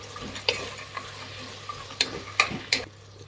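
Fresh green peas stirred into vegetable biryani in a pan, a steady soft sizzle broken by several sharp scraping clacks of the spoon against the pan, close and clear with no talking.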